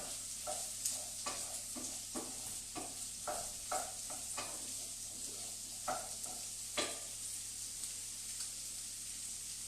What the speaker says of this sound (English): I'm going to pop my potatoes and my carrots into the pan. Just coat them well in the butter.